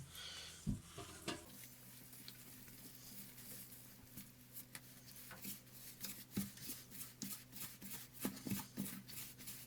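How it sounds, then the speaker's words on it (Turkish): Bazlama dough is being stirred with a wooden spoon in a bowl, giving soft, irregular scraping and sticky rustles that are faint and steady throughout, with occasional sharper clicks of the spoon against the bowl. "şimdi önce şöyle bir tahta kaşığımla karıştırıyorum güzelce"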